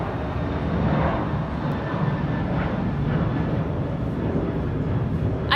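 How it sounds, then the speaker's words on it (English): An airplane passes overhead with a broad steady roar, fairly loud and sustained across the whole stretch, with faint other background sounds. "I think it's an airplane."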